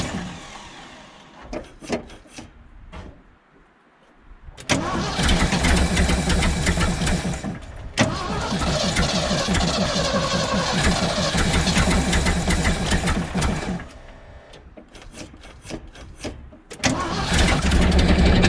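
A 1975 Ford F750 pipeline truck engine cranks in short bursts, then catches and runs loud and rough for several seconds, dies down, and restarts near the end, close by with no speech.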